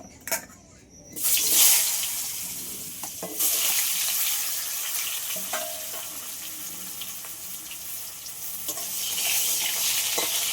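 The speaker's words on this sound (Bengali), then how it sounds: "ভেজে নেব আলুগুলো" Potatoes fry in a pan in a steady loud sizzle that swells after a quiet start, with occasional light stirring clinks and a watery hiss throughout, close and continuous, with no talk.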